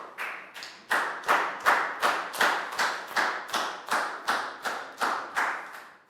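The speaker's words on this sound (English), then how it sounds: "High five and a big round of applause for Proud." Rhythmic clapping in a Year 3 maths classroom, a small group of children clapping in unison with about a dozen sharp, evenly spaced beats, close and clear with no talk.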